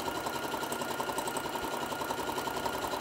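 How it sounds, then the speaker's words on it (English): A sewing machine running a straight stitch on fabric for bowl koozies, a steady fast mechanical whirr and rattle held evenly throughout at moderate volume. "I'm just gonna sew a straight stitch all the way down"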